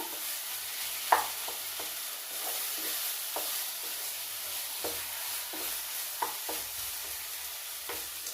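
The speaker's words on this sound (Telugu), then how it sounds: "నూనెలో బాగా వేగాలండి" Stuffing for bread pakoda fries in hot oil, a soft steady sizzle with occasional scrapes and taps of a spoon stirring the pan, fairly quiet and without speech.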